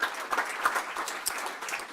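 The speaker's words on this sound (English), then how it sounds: "Let's give a round of applause and welcome our next students in cabinet and" An audience applauds at a technical college signing day ceremony, steady dense clapping filling the room for the full stretch at moderate level with no talk over it.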